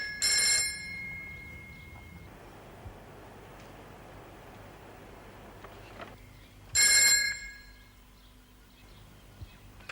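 A telephone bell rings in two short bursts several seconds apart, loud and close, with a quiet hiss between rings and no talking.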